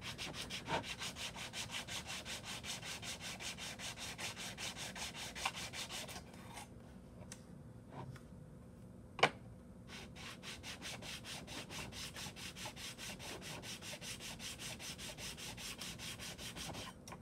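Worn sandpaper rubbing back and forth across wood in a steady, continuous rasping rhythm, fairly close, with a brief pause midway and one sharp knock, no voices.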